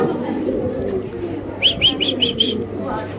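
Spanish pigeons coo in a quick run of five soft calls near the end, over a low background murmur.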